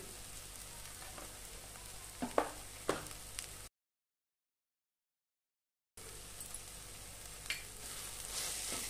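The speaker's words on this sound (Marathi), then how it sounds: "आता आपण हे छानपैकी तेलामध्ये भाजून घेऊया।" Masala of turmeric, coriander powder, black masala and salt roasts in oil for a drumstick and potato curry, a soft sizzle with a few sharp stirring scrapes, broken by a gap of silence before the frying resumes.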